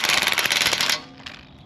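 Impact wrench rattles hard on bolts of a Ford Performance WARN winch bumper on a Ford Bronco, a dense buzzing hammer for about a second. It cuts off and leaves quiet shop ambience with a faint knock.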